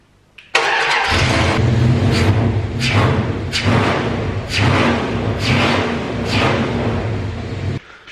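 An engine with its muffler removed cranks and fires up, then runs loud, rough and unmuffled for several seconds with pulsing surges before cutting off abruptly.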